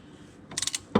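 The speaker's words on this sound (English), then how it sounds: "we'll go forward again on the wrench, and we'll lock it down" A ratchet wrench clicks forward to lock down a fastener during an oil change on a BMW i8: a quick run of four or five close, sharp ratcheting clicks, then a louder metallic clunk as it seats.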